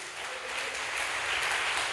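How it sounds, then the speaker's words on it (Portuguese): A church congregation applauds steadily during a service, a dense wash of clapping that builds slightly and holds throughout. "Dê um aplauso, Senhor Jesus."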